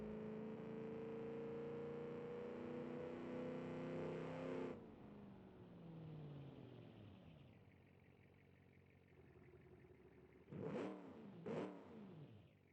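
In the BeamNG Drive video game, a car engine tuned to match a real pickup truck sounds a loud sustained high rev. The pitch then falls away as the throttle lifts, and a couple of sharp rev blips follow near the end.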